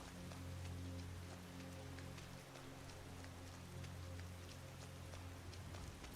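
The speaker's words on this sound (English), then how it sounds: "Let's hope the rain lets up." Steady rain falling in the modded game Skyrim, a dense even patter of drops on surfaces over a low hum, quiet and continuous, no voices.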